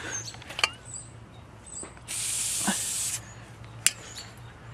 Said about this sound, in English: I suggest you spray PB Blaster, WD-40, whatever you got